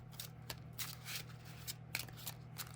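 Soft, continuous papery riffling of virtual cards being shuffled in the Yu-Gi-Oh Master Duel video game, quiet and close with faint flutters and a few brighter flicks, no talking.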